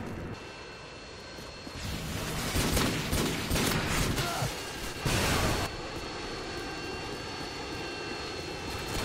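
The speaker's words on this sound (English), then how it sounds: "Enemy Harrier is incoming." An enemy Harrier jet roars overhead in Call of Duty Modern Warfare 2 multiplayer on the Scrapyard map, a broad rushing jet swell rising and falling over several seconds amid game noise and bursts of gunfire.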